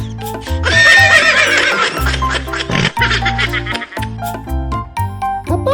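Horse neigh from a horse like those that once pulled old horse-drawn fire carriages, a loud whinny sounding over a music bed with sustained tones and a low bass line throughout.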